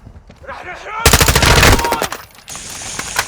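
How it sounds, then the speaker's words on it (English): Bursts of machine gun fire in Call of Duty DMZ crackle loudly and close in a dense rapid rattle, fading into scattered shots and a steady tone, with a brief voice before the firing. "Taking effective fire!"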